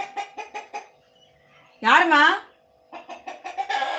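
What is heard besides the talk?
chicken clucking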